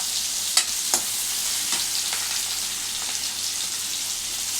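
Cluster beans frying in a pan give a steady, close high sizzle throughout, with a few sharp crackles and spits popping through early on.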